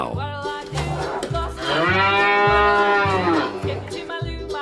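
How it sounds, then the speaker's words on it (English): A cow lets out one long, loud, drawn-out moo, set against a repeating, pulsing background music beat. "Cow."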